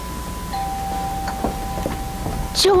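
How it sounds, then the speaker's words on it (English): A doorbell chimes once, near and clear, near the end of a quiet indoor scene on a TV sitcom, after a faint steady tone and a few soft knocks. "didn't you hear the doorbell?"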